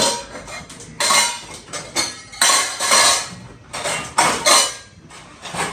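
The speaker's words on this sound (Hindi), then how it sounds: "तो इन सारे बर्तनों को मैं यहाँ पे रख दूँगी।" Steel dishes, cups, glasses and cutlery being stacked and put away in a home, with repeated clattering clinks and metallic knocks in uneven bursts, close and fairly loud.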